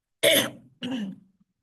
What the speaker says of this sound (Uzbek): Shu paytda yo'tal tutdi.